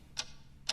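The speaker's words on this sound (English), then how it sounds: "What is that weird ticking sound?" Weird ticking sound in an animated Mario comedy, two sharp clock-like ticks about half a second apart, crisp and fairly close over quiet background.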